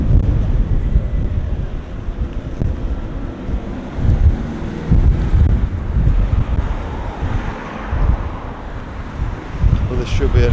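A gale-force wind buffets the microphone on a high street in Crookes, Sheffield, producing a steady loud rumbling roar with gusty surges throughout.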